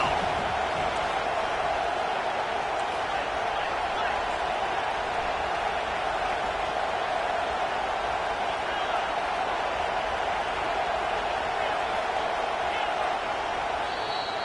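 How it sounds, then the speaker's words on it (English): A home crowd at a college football game against Arkansas roars as the defense tries to get off the field on third down, a steady, dense wall of cheering noise that holds throughout without letting up. "Here comes this home crowd as the defense tries to get off the field on 3rd down"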